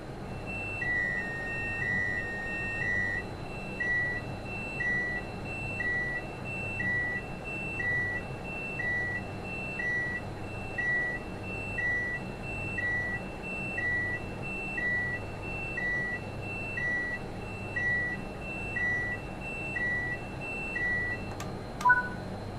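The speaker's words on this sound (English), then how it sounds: "The tilt alarm will sound for a second time." The tilt authorization and speed supervision alarm in a Train Sim World 5 cab sounds a second time. Regular two-tone electronic beeps repeat steadily for about twenty seconds over a low cab rumble and end in a few sharp clicks.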